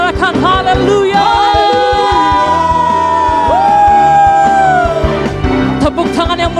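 A church congregation shouts hallelujah during an Ascension Day worship service in Bali, loud overlapping whoops and yells from many voices over sustained music with a long held sung tone.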